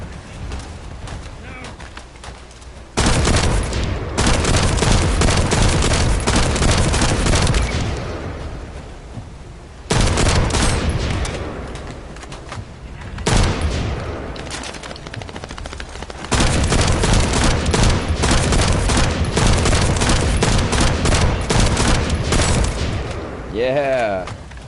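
Sniper rifle fired from the hip in the shooter game The First Descendant: long, loud stretches of rapid, dense shooting separated by short lulls, with a voice talking in between.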